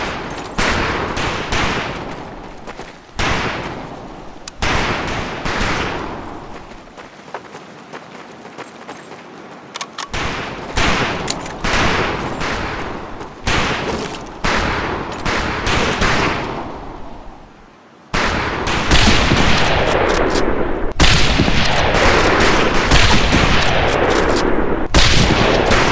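Scoped rifle shots crack out one after another on a range in Medal of Honor Pacific Assault, loud sharp reports with echoing tails, arriving in irregular bursts and growing denser toward the end.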